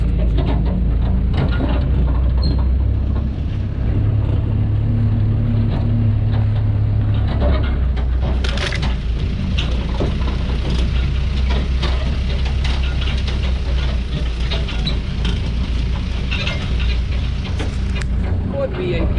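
Low, steady rumble of a six-wheeled truck engine pulling away from a national park in Nan, droning continuously with wind noise and occasional voices over it.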